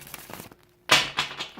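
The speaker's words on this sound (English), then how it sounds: "I'm going to shuffle a little bit" Tarot cards being shuffled by hand: a few quick crisp riffles and papery crinkles in short bursts, close up, with a brief quiet gap before a sharper flurry.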